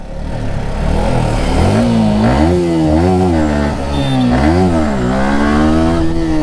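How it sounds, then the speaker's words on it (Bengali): A Yamaha R15 V4 motorcycle revving during a wheelie, the engine note climbing and falling in repeated waves of throttle, loud and close with a steady rush of wind behind it. "তো গাইস উইলি মারছি"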